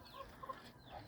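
Chickens cluck softly on a farm in the evening as a herding dog rounds them up for bedtime, the brief low clucks faint and scattered over a steady outdoor background.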